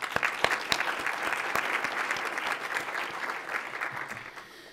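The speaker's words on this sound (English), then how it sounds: "I'd like to give another applause to J.P." Audience at a veterans' panel event applauds for J.P. Morgan, a full room of steady clapping with a few sharp, close claps standing out, holding throughout and fading slightly at the end.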